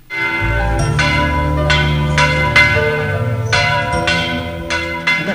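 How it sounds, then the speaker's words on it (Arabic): Church bells ring out at a commemoration in Maaloula, Syria, marking the first anniversary of the town's liberation, with repeated loud, resonant strikes layered over a sustained humming tone for several seconds. "وعلى وقع أجراس الكنائس ابتدأ الاحتفال"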